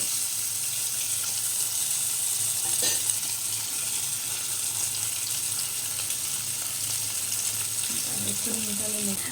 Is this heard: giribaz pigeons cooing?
no